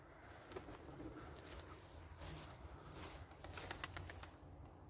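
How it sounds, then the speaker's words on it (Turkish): Flight pigeon wings flap in soft repeated bursts against a steady outdoor hiss, faint and somewhat distant, with no talking. "Evet kanat sesi güzel"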